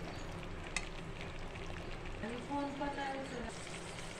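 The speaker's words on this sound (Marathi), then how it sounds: "असे छान आपल्याला बटाटे परतून घ्यायचे." Potato pieces tossed in green masala in a hot pan, a soft steady sizzle and occasional stirring clatter, with speech faintly in the background.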